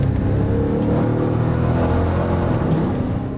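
Engine of a supercharged Hemi Dodge Durango police vehicle runs with a deep, steady rumble and throaty idle, loud and close throughout with no voices over it.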